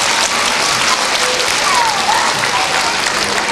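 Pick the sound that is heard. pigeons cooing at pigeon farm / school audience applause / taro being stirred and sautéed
school audience applause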